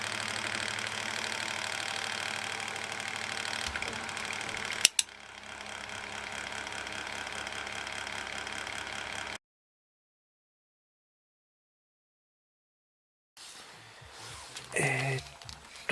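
An interior electric fan, model JIM 366, running with a rattling fault: a steady mechanical whir with a clattering edge, close and fairly quiet, cutting out to silence partway through before a short burst of handling noise.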